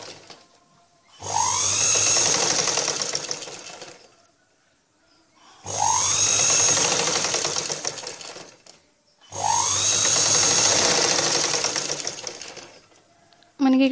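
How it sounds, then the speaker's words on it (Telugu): A sewing machine stitches around the square neck of a blouse in three long, loud, steady runs separated by short pauses, close up, with a person speaking in the gaps. "ఇప్పుడు మెడభాగం దగ్గర నుంచి ఈ విధంగా స్టిచ్చింగ్ చేసుకోవాలి."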